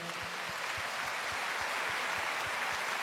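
A church congregation clapping together, a dense, steady wash of applause with a regular beat running through it, sustained and fairly distant.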